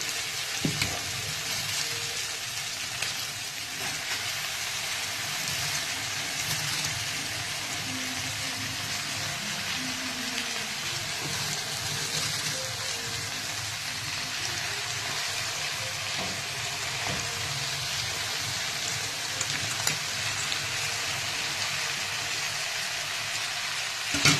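Cabbage goes into a sizzling, well-fried spice mixture in hot oil for a cabbage and chicken dish, producing a loud, steady crackling hiss that holds without a break for the whole stretch.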